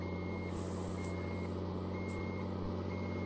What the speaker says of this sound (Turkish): geri vites sesi çıkarıyor mu?